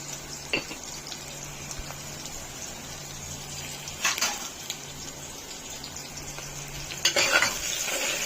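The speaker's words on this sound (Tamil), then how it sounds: "வெங்காயம் வதங்க ஆரம்பிச்சிச்சு" Onions sautéing with rock salt in a pan, a steady soft sizzle with intermittent stirring scrapes and a few louder clatters near the end, no voices.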